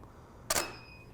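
Camera shutter firing once during a portrait shoot: a single crisp, close mechanical click with a brief ringing tail, alone against a faint background hum.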